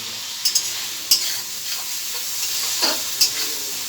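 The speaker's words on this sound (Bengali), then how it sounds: "দেখুন বন্ধুরা, মশলা আমার কষানো হয়ে গেছে।" Spice paste for chicken kosha sizzles steadily in a pan while being stirred, with several sharp scraping clicks of the spoon standing out over the continuous frying hiss, close and moderately loud with no talk.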